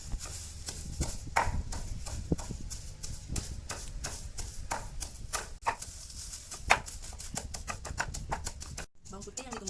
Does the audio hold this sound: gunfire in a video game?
no